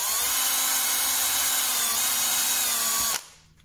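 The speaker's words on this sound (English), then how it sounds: "This drill is not the sort of drill you'd expect to see." A power drill with a tapered bit whines steadily while boring small screw holes in a carriage clock shelf, a continuous high pitched tone that cuts off abruptly near the end.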